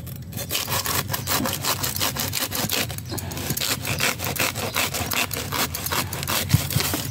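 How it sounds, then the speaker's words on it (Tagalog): Handsaw cutting through a bamboo shoot in a backyard, a steady run of rapid back-and-forth rasping strokes, close and loud throughout, with no talking. "Ang galing ng panguha ko, lagari."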